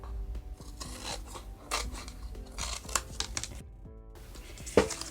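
Scissors cutting craft cardboard and paper for a Dollar Tree woodland Christmas ornament: close, irregular snips and crunchy cuts in short runs, with a pause and a sharper snap near the end, no talking.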